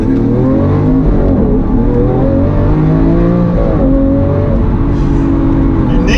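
A Lamborghini Aventador launching hard with launch control, its engine roaring loudly and close as revs climb through rising, stepped pitches, a continuous powerful acceleration with faint voices underneath.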